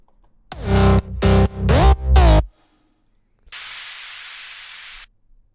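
Four loud, buzzy synth bass notes from a Spire bass preset play in quick succession, then a short pause and a steady burst of hiss.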